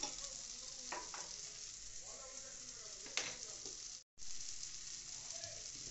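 Egg stirred in a kadai for an egg kaliya, a steady frying sizzle with scraping stirs at a moderate level and a sharp clink near the middle, then a brief silent gap before the sizzle resumes.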